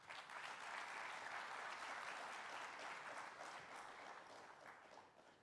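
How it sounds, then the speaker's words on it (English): An audience at a trade and investment forum in the Bahamas gives a round of applause, a dense wash of clapping that swells quickly, holds steady, then tapers off after about five seconds. "I ask you please to give Afreximbank a round of applause"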